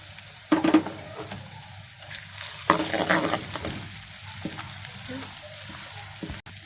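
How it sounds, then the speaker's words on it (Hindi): Garlic, ginger and green onion frying in a pan, giving a close, crackling sizzle with bursts of stirring and spatula scrapes that rise and settle over a few seconds. "इसके साथ ही मैं हरी प्याज शामिल कर दूंगी ताकि ये भी हल्की सी फ्राई हो जाए।"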